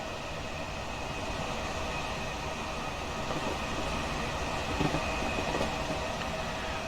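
A Class 379 electric train in Train Simulator Classic runs on the line from London Liverpool Street, a steady loud rumble and wheel noise with faint rattles throughout.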